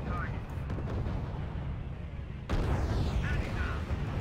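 Tank cannon fire and explosions in the WWII strategy game R.U.S.E., Panzer IV tanks under attack: a steady rumbling barrage of booms with a sharper, louder burst midway, sounding continuous and dense.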